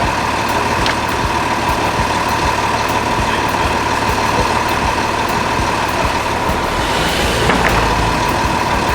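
An Amazon delivery van idling nearby, a steady loud engine drone with faint ticking, holding constant throughout the clip.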